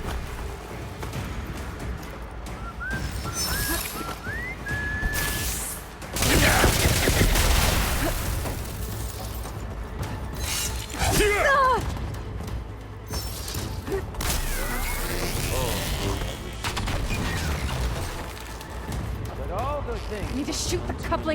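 Arrows strike the couplings holding up a huge machine in Horizon Forbidden West, giving repeated impacts, metallic creaks and groaning mechanisms over a steady background across a long stretch, with a few louder crashing bursts.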